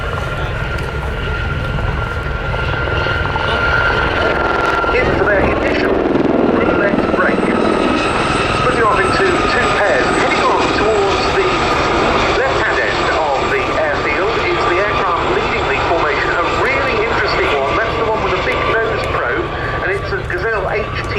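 Formation of Westland Gazelle helicopters flying a display at Cosford Air Show, a loud sustained rotor and turbine whine that swells as they pass, with an announcer talking over the engines throughout.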